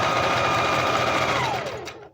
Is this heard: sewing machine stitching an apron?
yes